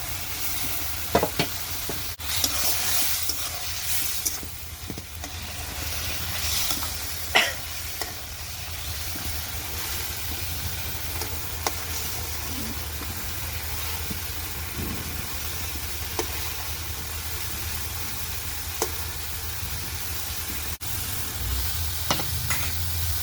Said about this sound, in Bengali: এখন কষাই নিই